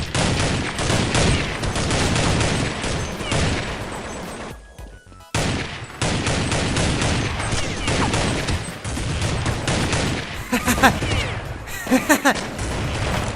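Gunfire from a shooting video game crackles in dense, rapid bursts, nearly continuous and loud, with a brief lull midway.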